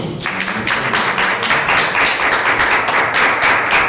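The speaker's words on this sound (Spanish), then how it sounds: "un aplauso para Mario" Audience applause closing a session of an academic panel on subnational electoral justice in Mexico, a steady run of close, crisp hand claps from a modest crowd with no talking.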